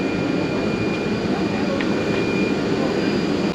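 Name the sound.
train ride from Lisbon to Porto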